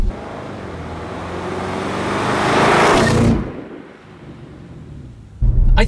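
Audi RS6 Performance accelerates hard with a rising engine roar that builds for about three seconds, then cuts off sharply into near quiet before a loud burst of rumble returns; no talking.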